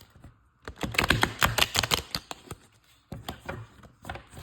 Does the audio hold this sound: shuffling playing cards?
yes